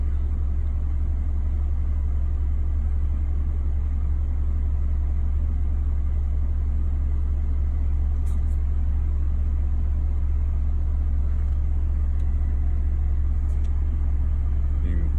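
A Mercedes E350 4Matic idling in drive with the wheel turned, giving a steady low droning rumble with a constant vibration hum, close and continuous throughout.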